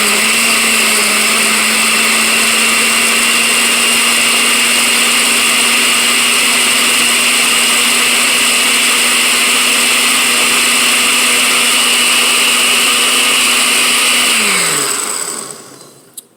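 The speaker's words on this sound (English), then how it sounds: "So we're going to give this a blend." A kitchen blender purees shrimp aguachile sauce in one long continuous whir, loud and close, holding a steady pitch for about fourteen seconds before it switches off and winds down.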